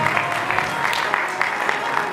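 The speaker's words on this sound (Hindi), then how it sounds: "मैं चाहूंगा उनका भी जोरदार ताली" Audience clapping at a Bhagwat Katha religious discourse in Ashok Vihar, Delhi, a steady dense applause from a seated crowd, held evenly throughout with individual claps standing out in the wash.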